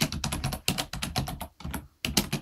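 Quick bursts of typing on a computer keyboard, close and clear, with rapid key clicks broken by short pauses.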